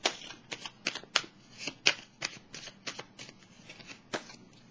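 Tarot cards are shuffled and handled close by, a quick run of crisp riffling flicks and soft slaps in irregular bursts, with no talking.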